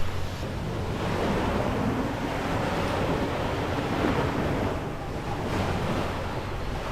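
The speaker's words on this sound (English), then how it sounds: "This is a fine grained sand beach." Surf on a fine-grained sand beach on Boracay Island, a steady broad wash of breaking waves with wind buffeting the microphone, continuous and moderately loud throughout.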